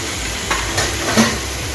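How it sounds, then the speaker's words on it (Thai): Sliced pork belly stir-fried with a three-spice seasoning sizzles steadily in a hot pan, with a few soft scrapes of stirring. "เอา หมูสามชั้นที่หั่นแล้ว มาผัดมาผัดใส่กับสามเกลือ คลุกเคล้าผัดให้เข้ากัน"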